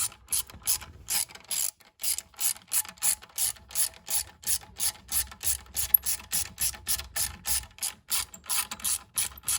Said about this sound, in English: The adjuster's a 10 millimeter. You want to loosen it, which will slowly drop down.